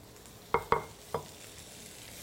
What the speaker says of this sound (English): I'm going to give these another quick jump, quick saute